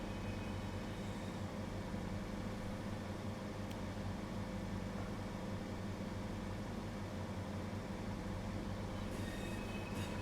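A Pacer train climbing the Bernina line in Train Sim World 4, giving a steady, dense rumble of wheels and motor with faint squealing, continuous and unbroken throughout.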